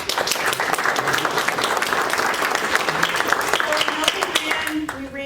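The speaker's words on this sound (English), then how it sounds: "let's give our expert panelists a round of applause" An audience applauds panelists at a senior living finance talk, steady dense clapping filling the room for about five seconds before tapering slightly at the end.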